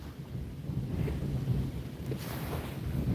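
Strong wind blows outdoors, a steady low rumble with gusty buffeting against the microphone, loud and unbroken throughout with no voices.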